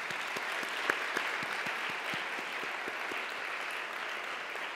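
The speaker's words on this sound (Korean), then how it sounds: "박수 한번 올려드리지 않겠습니까?" A church congregation applauds at a Sunday worship service, a steady wash of many hands clapping at a constant level throughout, with a few sharper individual claps standing out.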